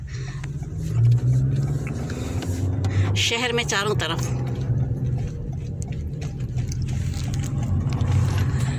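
Busy city road traffic streams past, a steady rumble of car engines with one vehicle revving and roaring by at mid-clip, all under a person talking.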